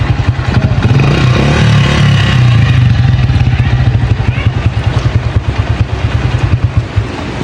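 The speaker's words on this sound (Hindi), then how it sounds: "जल्दी जल्दी से बाइक को यहाँ पे पार्क करते हैं" A motorcycle being ridden home through a rainy village and brought to a stop for parking, its engine loud and close with a steady, rapid pulsing rumble that holds throughout.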